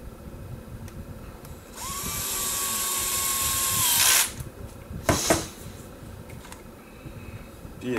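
A power screwdriver drives a screw into the rear drive shaft of a Stampede 6x6 RC truck: one steady, high-pitched whine lasting about two seconds that ends with a brief rising burst, followed by a couple of sharp clicks and handling noises.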